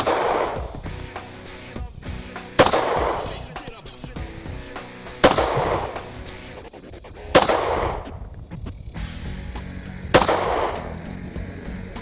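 A Glock handgun fires at a shooting range in five loud, sharp single shots spaced about two and a half seconds apart, each followed by a short ringing decay over quiet background.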